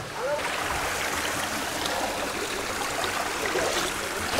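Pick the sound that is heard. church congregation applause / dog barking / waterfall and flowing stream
waterfall and flowing stream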